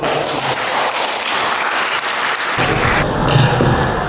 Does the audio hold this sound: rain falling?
no